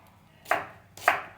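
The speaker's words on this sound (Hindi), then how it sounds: "प्याज हमेशा मोटा काटना है" A knife cuts thickly through an onion on a board: two crisp, separate chops about half a second apart, close and clear with quiet between them.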